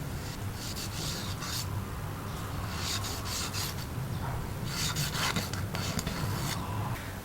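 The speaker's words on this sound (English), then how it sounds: "Make a few slits diagonally on the surface." A knife scores diagonal slits across the surface of a cleaned, washed fish, heard as close, continuous scraping and rasping strokes with rhythmic bursts of friction.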